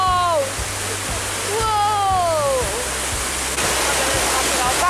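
Heavy, constant roar of a large waterfall close by at Plitvice Lakes National Park, with brief voices heard faintly over the rushing water.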